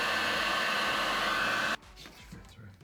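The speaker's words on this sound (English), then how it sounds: "then we're going to use the heat gun" Heat gun blowing hot air onto heat-shrink over screened speaker wire, a loud steady hiss that stops abruptly partway through, leaving quiet handling sounds.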